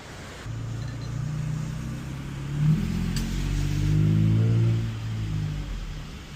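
An engine revs and strains while a stuck Audi is towed out, a steady low rumble that swells as the engine climbs, fairly close, with no voices.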